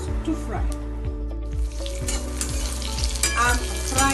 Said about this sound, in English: I'm frying the potatoes in the oil.